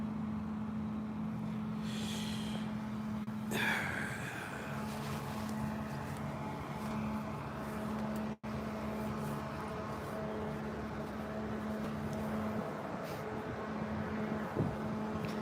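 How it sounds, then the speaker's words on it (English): A steady engine drone hums through the whole stretch, with a louder burst of passing noise early on and a brief dropout midway. "There's an engine sound behind me when the first one drove in front of me."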